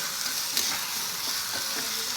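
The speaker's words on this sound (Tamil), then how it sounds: "இது நல்லா வதங்கட்டும்." Ingredients for a pepper and cumin chutney frying in a pan, a steady close sizzle with faint stirring scrapes.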